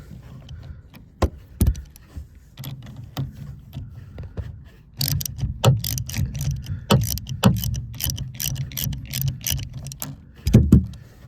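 A ratchet wrench clicks in quick bursts as a rear shock bolt is backed out on a VW Cabrio, the mk3 Golf-based convertible. It is close and fairly loud, with scraping and metallic handling between the bursts and no talk.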